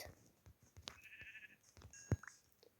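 Game sheep bleating in a short, faint call around the middle of a quiet stretch, with a few soft clicks and tones from the game around it.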